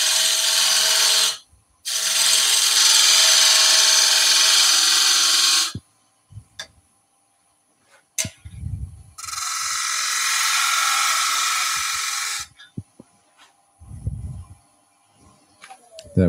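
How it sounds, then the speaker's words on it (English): A parting tool cuts into a spinning piece of wood on a lathe, with two long loud bursts of harsh cutting noise separated by pauses, plus a few low thumps and knocks in between. "I'm just going to pop a quick cut with a parting tool in so I know where this piece is ending"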